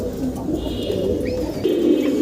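Kashmiri racer pigeons at a pigeon farm coo steadily, with several overlapping low, throaty calls that run continuously and close by, the flock murmur rising slightly toward the end.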